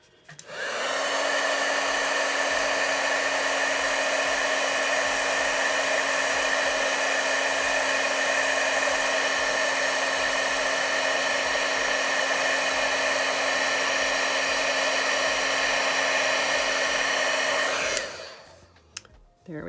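A heat tool melting embossing powder on a card blows with a loud, steady, close whirring hiss that starts abruptly, holds unbroken for about seventeen seconds, then cuts off and fades.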